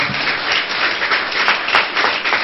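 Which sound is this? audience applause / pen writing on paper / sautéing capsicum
audience applause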